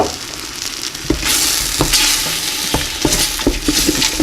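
Meat and tomato pasta sauce with Cabernet Sauvignon wine bubbles and sizzles loudly in a pan, a dense continuous hiss punctuated by sharp scrapes and knocks of a utensil stirring.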